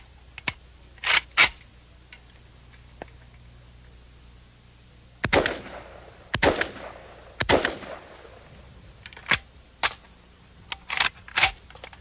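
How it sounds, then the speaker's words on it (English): Semi-automatic rifle fired one round per trigger pull, giving a string of sharp, loud single reports spaced unevenly, some in quick pairs, with brief echoing decay and quiet gaps between. "One pull of the trigger, you get one round."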